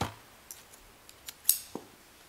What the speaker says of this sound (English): then I will cut this yarn.